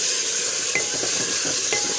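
Chicken pieces frying in a hot pan for a chicken curry, a loud continuous sizzle with a few stirring clinks, close up and without talk.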